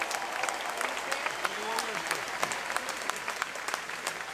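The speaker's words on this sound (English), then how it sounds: "Please give a huge round of applause to David Wu and to Peter DeFazio." Crowd applause at a political speech by a presidential candidate in Eugene, Oregon, a dense steady clatter of many hands filling the hall, with a voice speaking over it.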